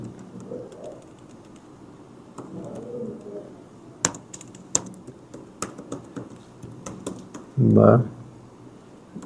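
Keys tapped while typing a street address into an online form for forming an LLC, soft irregular clicks at close range with a brief louder burst near the end, over quiet room tone.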